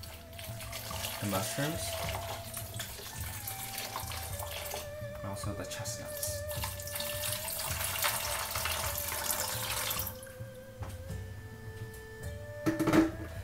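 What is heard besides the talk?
tap water running for soaking mushrooms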